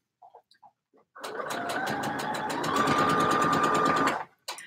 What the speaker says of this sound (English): I'm just sewing up some PJs.